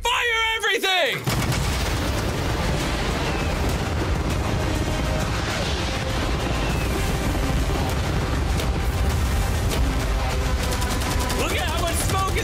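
Cannons aboard a yacht in a video game fire continuously for about eleven seconds, a loud, dense barrage of overlapping blasts and booms, with voices shouting over it.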